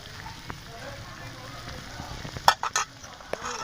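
A pea mixture with chopped coriander and garam masala is stirred in a pan over a soft sizzle, with a few spoon scrapes and clinks and some background voice.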